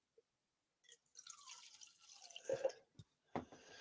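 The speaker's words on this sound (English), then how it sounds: "Let me go ahead and pour a little wine in here." Wine is poured into a plastic Pizza Hut cup after a cap comes off: a faint click, then a gurgling, splashing stream that rises and stops, with a few brief knocks at the end.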